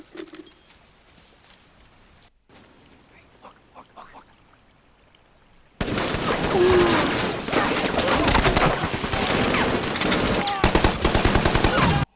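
Sustained machine gun fire from a World War II Pacific battle drama erupts loudly after a quiet, sparse opening, with dense rapid bursts and layered gunfire continuing to the end.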